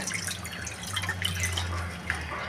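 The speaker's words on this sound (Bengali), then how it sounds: "পাতাগুলো নিয়ে নিচ্ছি, ভালো করে ধুয়ে নিচ্ছি 2-3 বার করে" Gadal leaves being rinsed by hand in water, soft splashing and dripping with a faint low hum underneath, close and brief, no voices.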